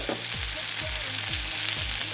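Cherry tomatoes on the vine sizzling in a smidgen of oil in a hot pan, a continuous close frying hiss with a few soft bumps of the pan, no voices.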